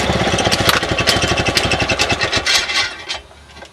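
Victa Power Torque lawn mower engine cranking and sputtering as it tries to start, a rapid rhythmic chugging that runs for about three seconds before dying away, close and loud with no talking.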